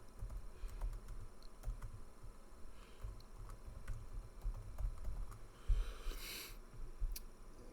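Keys clatter on a computer keyboard in quick, irregular, fairly faint taps, with no talk during the typing.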